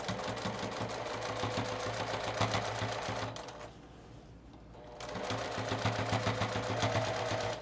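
A serger stitches gathered fabric for a long skirt made from old dresses and jeans, running fast and close, pausing briefly for about a second, then starting up again.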